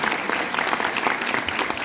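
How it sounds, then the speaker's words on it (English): A graduation commencement crowd claps steadily and enthusiastically, a continuous dense wash of applause. "We can clap."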